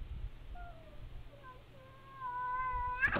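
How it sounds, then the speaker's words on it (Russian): Three cats tangle under a parked car, giving a faint series of rising and falling yowls and meows that swell toward a sharp hissing burst at the end. "Три кошки схватываются под машиной."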